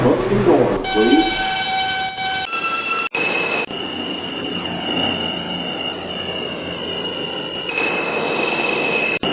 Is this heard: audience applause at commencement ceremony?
no